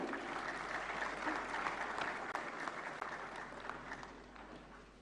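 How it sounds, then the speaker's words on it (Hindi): Sustained applause from an audience at a national film awards ceremony as a recipient accepts a prize, steady clapping throughout that thins slightly toward the end. "श्री रजावत के लिए जोरदार तालियां।"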